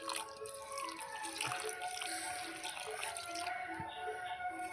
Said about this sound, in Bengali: ছানাটাকে এবার আমি জল দিয়ে ভালো করে ধুয়ে নেব।